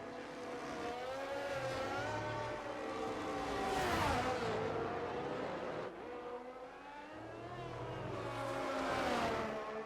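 F1 race car on a flying lap at Imola in the F1 23 game, its high-pitched engine wailing continuously through gear changes, rising and falling in pitch with a brief dip mid-lap, loud and close throughout.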